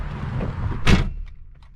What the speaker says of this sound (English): Door shut solid.